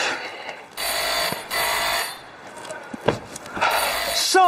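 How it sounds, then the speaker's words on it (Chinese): A phone ringtone sounds in repeated electronic bursts over an indoor background, with a few clicks between the rings and a rising chime at the end. "电话响了。"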